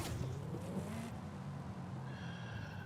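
Supercharged Dodge Charger Redeye with a Whipple blower, carbon fiber hood and fenders, driving in Forza Horizon 5, giving a steady engine drone with a rising rev sweep early on, then settling into a smooth cruising hum with a faint whine.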